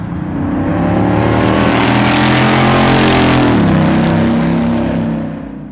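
A supercharged GMC offroad custom truck engine revs hard and close, a loud, rough, aggressive roar that climbs and holds for several seconds before easing off, with no talk over it.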